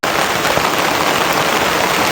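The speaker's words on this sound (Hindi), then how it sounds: "जोर से वर्षा होछि देखि पारथबे केमती पूरा देखा होछि" Heavy rain pours steadily in a broad, dense hiss, loud and close throughout, with no talking.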